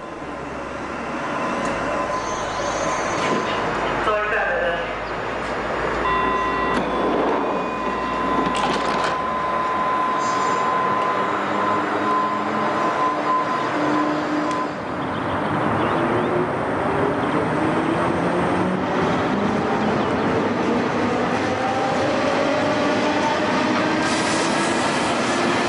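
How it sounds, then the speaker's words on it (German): A Berlin S-Bahn train rolls into Hallensee station with steady rumbling and rail noise, a sustained squeal of wheels and brakes rising as it slows, no voices. "Einfahrt in den Bahnhof Hallensee."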